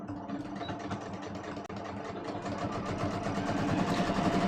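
A sewing machine stitching twill tape onto the left fly piece of a pair of jeans, a steady rapid mechanical whir that runs continuously and grows slightly louder, close by.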